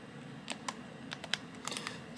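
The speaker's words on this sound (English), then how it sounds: "typing on this keyboard" Keys clatter on a small netbook keyboard, a run of irregular, crisp taps up close over a quiet room.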